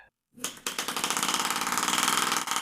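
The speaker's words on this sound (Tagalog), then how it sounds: "nare-regulate ang presyon, pero nagdudulot ito ng pag-pulse ng makina" A tiny 5-gram compressed-air engine regulated by a syringe starts after a short silence and runs with a fast, rhythmic, pulsing chug, close and loud, until the end.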